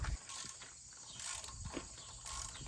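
A ratchet with an extension works the sump bolts on a 1973 Triumph Spitfire 1500, a faint rapid clicking in short repeated bursts, quiet and close, with no talk.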